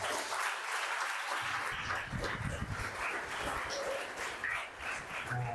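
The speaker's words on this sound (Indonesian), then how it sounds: "Tepuk tangan buat Pak Suparman." Applause for Pak Suparman at a seminar on law in the digital era, uneven clapping from a modest crowd that swells after a quiet start, with scattered voices and a few yelps mixed in.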